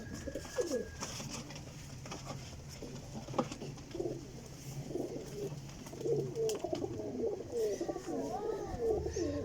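Pigeons coo in the middle distance, with some soft calls among flying pigeons kept by a breeder in Sarai Alamgir, Jhelum, over steady outdoor background noise and faint other bird chirps.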